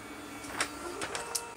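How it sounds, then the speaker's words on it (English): Stepper motors of a 3D printer whir briefly as the print head travels to the first bed-leveling point, a few short mechanical bursts close by with no talking. "the printer has now moved to the first point on the bed"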